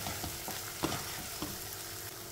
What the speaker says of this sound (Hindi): और मसाले को मिक्स कर देते हैं